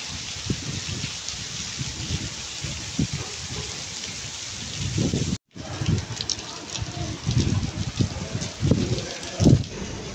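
Heavy rain pours steadily at a resort with a pool and park, a dense broadband wash with scattered low thumps, continuous and fairly loud across the whole stretch apart from one brief dropout.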